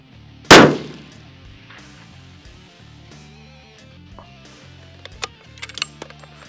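A single sharp rifle shot fired from a bipod cracks loud and close, decaying over about half a second, followed by quiet ambience with faint metallic clicks and handling noises later.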